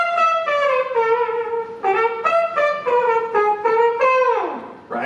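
A man imitates a trumpet with his voice into a microphone, a loud, bright brassy line of several phrased notes with a clear pitch, the last note sliding down at the end.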